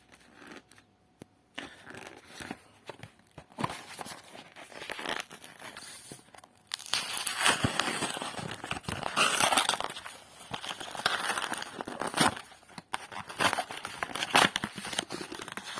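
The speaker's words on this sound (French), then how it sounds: "on va ouvrir les 3 cartons là, pour avoir toutes les pochettes" Cardboard shipping boxes being opened and torn, with close crinkling, ripping and scraping, quieter at first then louder and busier from midway, with sharp crackles and tears and no talking.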